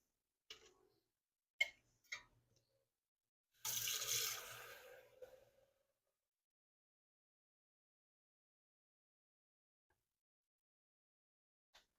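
Water poured into an overnight oats mixture for high-protein cookie dough oats: a short, splashy pour of about two seconds, preceded by a few light kitchen clicks and followed by silence.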